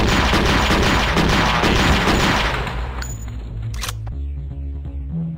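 Heavy gunfire in Thing Thing 3, a loud, dense volley of shots for about three seconds that then drops off, leaving a few sharp isolated cracks over a low hum.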